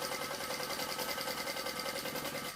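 A sewing machine runs steadily, stitching a quarter-inch seam on a bag, its rapid even whirr continuous and close throughout with no pauses.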